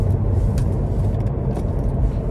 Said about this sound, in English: starting the test drive in the CT5-V Blackwing